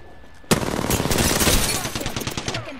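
A sudden burst of rapid automatic gunfire in Apex Legends erupts after a quiet moment, loud and close, its fast rattling shots tapering off toward the end.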